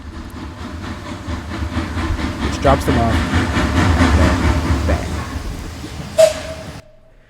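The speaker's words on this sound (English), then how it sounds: "And we end off with the train sound effects" Train sound effects within a composed soundtrack: a steady rumbling rail noise runs beneath spoken narration, with a sharp bang near the end before it cuts out.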